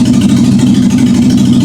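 A freshly rebuilt Toyota Altezza engine idles low and steady at its first start, a loud, even rumble running without a break and with no voices over it.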